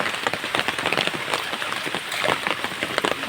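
Heavy rain falls in a village, a dense, close patter of drops pelting surfaces steadily with no voices.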